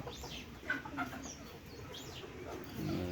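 A Bantam chicken clucks faintly among other animal and background noise in a park forest enclosure, with a few soft, scattered calls.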